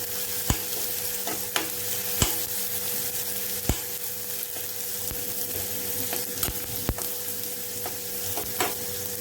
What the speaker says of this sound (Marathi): हळद घालायची आहे थोडीशी. चांगलं तेलामध्ये असं मिक्स करायचं.